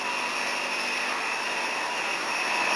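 Aeroplane with an aluminium body, wings and engine housings, producing a steady, loud broadband jet-like roar that holds evenly throughout with no pauses or voices.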